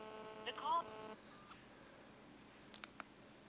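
An HTC Magic phone running CyanogenMod plays a short cluster of DTMF dialing tones early on, followed by quiet hum and a few faint clicks.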